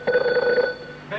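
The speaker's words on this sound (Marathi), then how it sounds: "पळय कोणाचो फोन आयला" A telephone rings with an incoming call during a Konkani tiatr stage play, a close, clear run of repeated electronic ring pulses lasting about a second before it cuts off.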